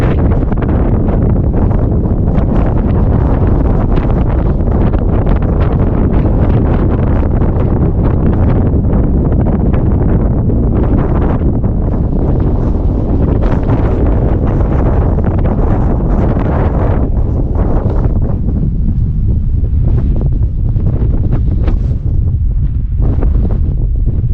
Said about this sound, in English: I wanted to give you an idea of how windy it is today